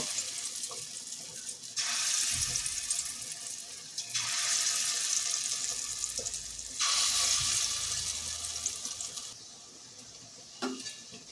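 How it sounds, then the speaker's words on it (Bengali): Chickpea and lentil fritters dropped into hot mustard oil, hissing and sizzling in three long, loud swells of a few seconds each, with quieter pauses between and no talking. "এবার এর থেকে ছোট ছোট অংশ এভাবে নিয়ে বড়াগুলো ভেজে নেব"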